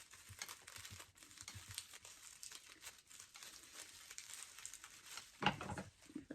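Soft crinkling and rustling of a strand of craft garland being untied, a close, quiet, continuous scratchy texture with one brief louder crackle near the end.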